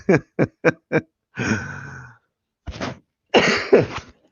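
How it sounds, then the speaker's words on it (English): A short series of sharp allergy coughs comes in quick succession, then a few heavier, rougher coughs after brief pauses, close and clear. "I'm gonna cough"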